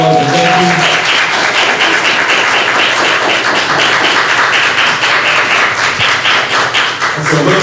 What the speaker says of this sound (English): give our panelists a hearty Patterson round of applause